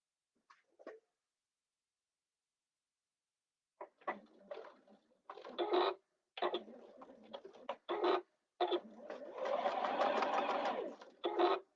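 A sewing machine stitches a seam with a 3/8 inch allowance. Close, quiet bursts of rapid mechanical chatter start and stop several times and end in one longer steady run, with a short soft sound just before the first burst.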